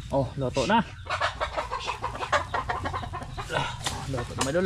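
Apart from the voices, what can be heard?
chicken clucking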